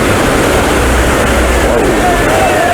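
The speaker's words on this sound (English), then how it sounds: "This is the last rapid before the takeout." River rapids roar continuously and loudly, a dense, unbroken wash of fast water close by.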